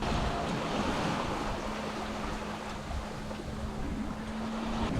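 Sailboat under sail on the open Atlantic Ocean at about five knots, with steady wash of waves and wind noise on the microphone throughout, and a faint low tonal hum running beneath.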